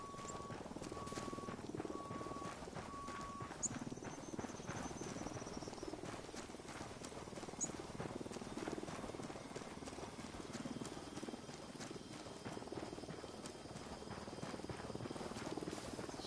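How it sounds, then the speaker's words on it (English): A helicopter flies overhead in the open-world military shooter Ghost Recon Wildlands, a steady, fairly quiet rotor drone and rumble that continues under other faint game ambience for the whole stretch, with no talking. "There's a helicopter up there."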